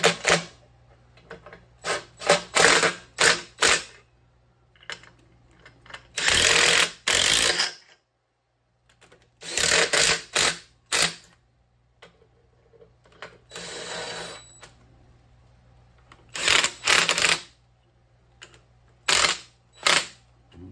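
Bursts of rapid mechanical ratcheting repeat again and again, separated by short pauses, as bolts are tightened on a Ford 302 engine with a spark plug socket during a garage rebuild of its timing cover and oil pan.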